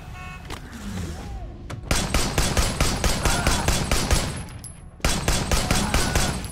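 Rapid pistol gunfire from the Sleeping Dogs video game, a dense burst of sharp shots in quick succession with a brief pause, then another close, loud volley, with faint voices underneath.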